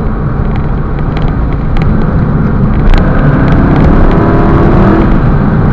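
Aston Martin Vantage engine droning steadily while driving on an ordinary road, a loud, continuous low rumble with road noise that swells slightly toward the end, no talk.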